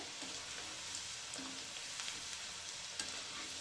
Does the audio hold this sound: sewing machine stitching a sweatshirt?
no